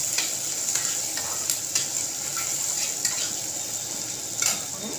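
Sugar fries in oil in a pan for a fish kalia and is stirred, giving a steady sizzle with scraping strokes and light taps of the spoon against the pan, close up and without speech.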